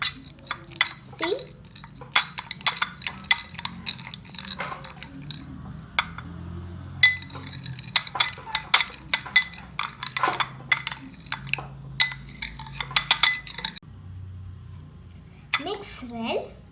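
Homemade slime being mixed in a bowl with a spoon: repeated short clinks and scrapes of metal on the bowl in irregular bursts, with quiet pauses, faint talk nearby and a low steady hum underneath.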